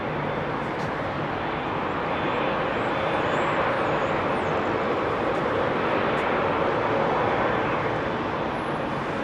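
An ex-KLM Boeing 747-400 combi with GE CF6 engines roars steadily at a distance at Heathrow, a broad, sustained jet rumble with a faint whine on top and little change in loudness.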